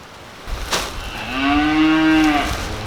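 A cow on a farm gives one long, loud moo near a makeshift round pen, rising and then holding before it fades, after a short sharp knock.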